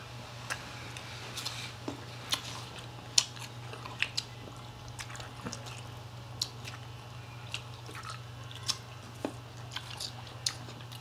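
Crunchy mango eaten with bagoong gives soft, irregular crunching bites and wet chews, close and fairly quiet over a low steady hum, with no talking.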